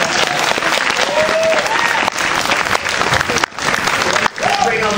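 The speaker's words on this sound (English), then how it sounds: "so give yourselves a clap for making it such a great" Loud, dense audience applause and cheering at a Comic Con panel in New York, a sustained roar of many clapping hands with brief dips, crowd voices mixed in throughout.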